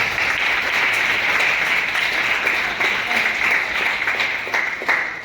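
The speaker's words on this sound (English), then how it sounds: "So let us give them a big round of applause." A large audience at a college expert talk on biotechnology entrepreneurship claps in sustained, dense applause, loud and even, with a faint voice underneath.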